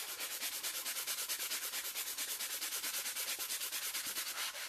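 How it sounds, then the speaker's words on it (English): Steady back-and-forth scraping of a sanding block on a woodburned wood piece, quick even strokes repeating at a regular rhythm, close and fairly quiet, no talking. "with your piece, you want to take a sanding block"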